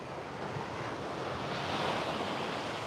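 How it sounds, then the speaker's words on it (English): Sea waves washing onto the shore at La Gomera, a steady broadband roar of surf with a gentle swell in the middle and light wind, no voices. "this is the sound of the sea"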